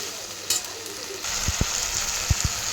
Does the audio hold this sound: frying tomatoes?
yes